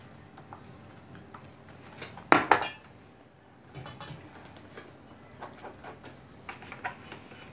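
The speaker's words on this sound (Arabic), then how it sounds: "كنزيد دقيق وكنحركها" Flour being stirred into chocolate cake batter: a utensil clinks and scrapes against a bowl, with one sharp clatter, then lighter scattered taps close by and no talk.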